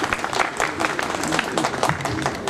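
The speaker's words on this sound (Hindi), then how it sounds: "आप तालियों से स्वागत करें" Crowd applause welcoming dignitaries at a launch ceremony for a new train between Kurukshetra and Mathura, a dense, steady wash of clapping from a large audience, loud and continuous with a voice briefly heard through it.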